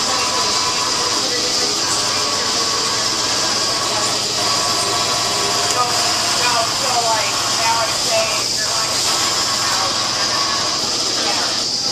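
A Lely robotic milker running its wash and rinse cycle in a dairy barn, a continuous mechanical whir and hum with rushing water and faint clanks, with a person talking over it.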